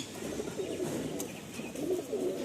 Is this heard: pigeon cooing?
yes